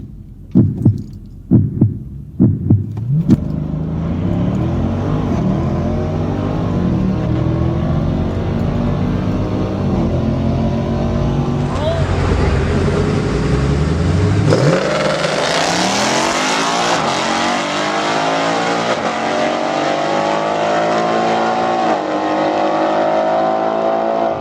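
Two cars, a Dodge Challenger Scat Pack and a 2019 Ford Mustang GT, race side by side at a drag strip: a few sharp revs, then a long, loud, rising engine roar that builds and shifts pitch before steadying as they pull away, with no talk.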